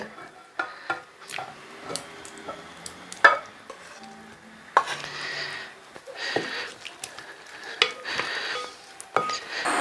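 Paste being mixed into eggs for a Spanish omelette, with repeated close scraping and stirring strokes against a bowl, uneven in rhythm, along with soft clinks and small taps.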